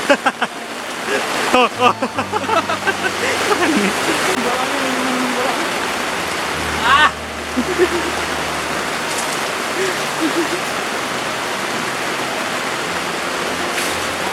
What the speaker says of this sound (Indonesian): Hujan, bro. Banjir, bro.